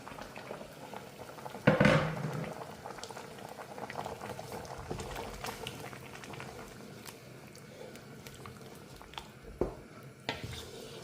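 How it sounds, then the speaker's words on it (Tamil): Potatoes boiling in a pot of water on a stove, a soft steady bubbling with occasional louder pops and clatters, heard close and alone. "இது உருளைக்கிழங்கு போட்டது கொதிச்சிக்கிட்டு இருக்கு."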